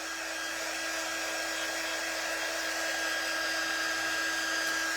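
A hair dryer blows steadily to dry glue on a DIY wooden barn cutout, a close, constant whooshing hum with a faint high whine and no talking.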